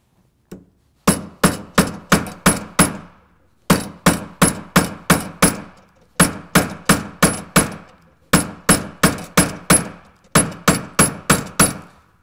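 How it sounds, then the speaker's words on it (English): Hammer blows on a pure silver cuff bracelet shaped over a metal stake, ringing out in loud, close bursts of rapid strikes separated by short pauses, with no talking. "Now the hammer comes down squarely on the piece with the underlying metal stake supporting the shape."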